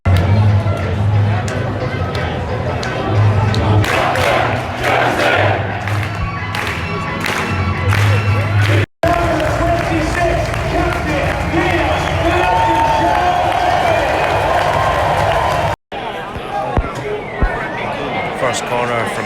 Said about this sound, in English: Crowd were just giving him a good cheer there.